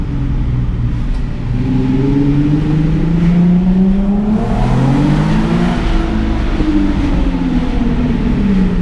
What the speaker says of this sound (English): We'll do a little first gear pull.